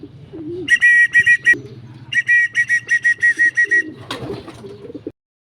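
Racing pigeons returning to a loft in Pulilan, Bulacan after a training race from Tarlac coo in repeated close, clear bursts with short pauses, alone without talk.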